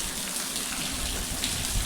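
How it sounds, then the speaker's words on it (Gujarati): Steady rain hisses over a surface in a dense, even patter with no voices, filling the whole stretch without pause. "વરસાદ ચાલુ થઈ ગયો છે"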